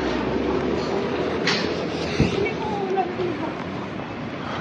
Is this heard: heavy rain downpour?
no